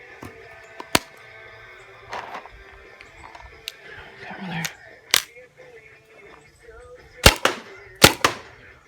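A Tippmann A5 paintball marker with a full hopper and an air tank fires sharp, isolated pops, spaced irregularly, with a couple of quick close shots near the end over faint background noise.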